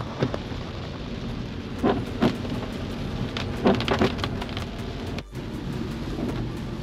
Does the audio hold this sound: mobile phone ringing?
no